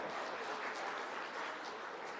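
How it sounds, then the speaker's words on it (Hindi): Audience applause during a spiritual talk session on GST and charity matters, a steady dense wash of clapping from a seated crowd, moderately quiet and continuous for the whole stretch without any talk over it. "तालियां तो आप लोगों के लिए ही बजनी चाहिए"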